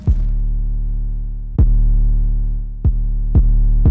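Driven 808 bass notes boom with a slightly distorted tone, each starting with a sharp pitch-dropping attack, four hits in a loud, close, sustained pattern with no voices.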